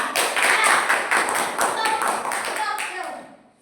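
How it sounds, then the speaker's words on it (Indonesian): Applause from a primary-school classroom for a student group after a fractions lesson, a dense patter of clapping hands filling the room for a few seconds and fading at the end, with voices talking over it. "Beri tepuk tangan untuk kelompok 3."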